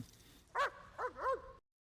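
A dog barks a few times in quick succession, close and fairly loud, with a short pause between the first bark and the pair that follows.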